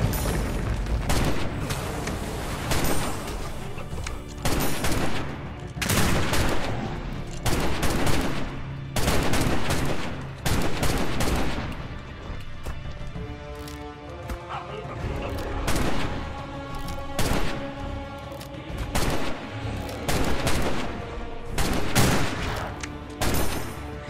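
Rapid bursts from the Hydra weapon in the video game Atlas, repeated sharp shots in dense clusters with brief pauses, loud and close throughout.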